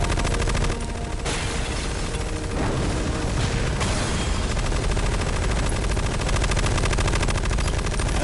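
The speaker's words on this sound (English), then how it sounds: "She's got really good recoil control for firing that one-handed." A one-handed firearm fires in Metal Gear Solid Delta: Snake Eater, dense, loud automatic gunfire that rattles continuously throughout with heavy, booming shots.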